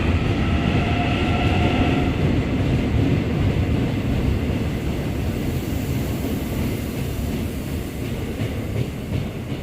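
A Suin-Bundang Line subway train rumbles loudly and steadily close by at Wangsimni Station in Seoul, with a low roar and faint rattling, a brief whining tone early on.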